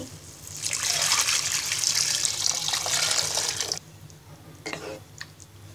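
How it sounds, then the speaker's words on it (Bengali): Chicken stock pours steadily into a pot for a few seconds, a loud splashing stream, then stops, leaving a few soft drips and a quiet kitchen. "মুরগির মাংস সেদ্ধ করে যে পানিটা ছেঁকে রেখেছিলাম সেই পানিটা দিয়ে দিচ্ছি"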